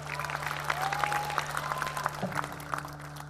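A studio audience applauds dancers at a street dance competition show, the clapping dense and continuous throughout with a steady tonal hum beneath it.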